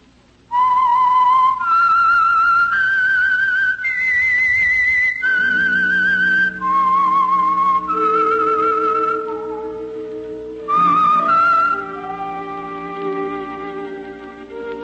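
The whistled theme of The Whistler radio program, a clear solo whistled melody of rising and falling notes, later joined by sustained orchestral chords beneath it, loud and close.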